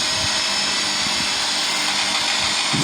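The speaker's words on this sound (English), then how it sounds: "Washing machine is spin." A Samsung Ecobubble washing machine spins at speed with a continuous loud whooshing roar and a droning whine. A few low knocks from the drum come through the sound, with no voices.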